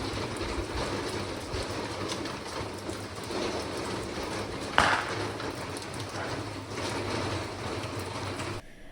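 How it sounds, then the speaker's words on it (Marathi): Steady, dense heavy rain hisses outside without a break amid strong wind, with one brief louder splash or thump partway through. "बाहेर अचानक एवढा पाऊस चालू झाला होता ना आणि एवढी हवा होती"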